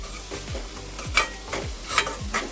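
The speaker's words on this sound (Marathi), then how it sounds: "चांगला परतून घ्यायचा कांदा." Chopped onion sautéing with a pinch of salt in a pan for pav bhaji sizzles softly while a spoon scrapes and stirs in regular strokes about twice a second, close up and without talk.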